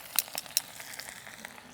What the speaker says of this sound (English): You can hear that sizzling away.